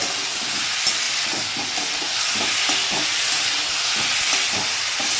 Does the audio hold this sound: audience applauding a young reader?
no